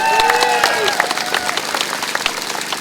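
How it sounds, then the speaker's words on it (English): A crowd at a nurses' union rally claps for a speaker, loud dense applause with a few sharp claps near the front and some voices and a brief tonal sound mixed in early on. "give a good round of applause for Donna"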